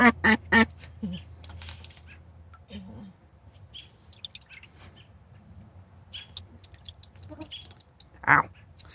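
Ducks quack in a few short nasal bursts at the start and again near the end, with quieter chatter and faint shuffling in between, close by in a calm setting.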